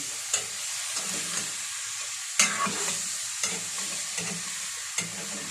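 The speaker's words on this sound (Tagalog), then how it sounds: "Kayin muna natin kasi dumikit na siya sa ating kaldero." Pork bones stuck to the bottom of a cooking pot are stirred and scraped over a constant sizzle, with sharp utensil scrapes and knocks every half second or so.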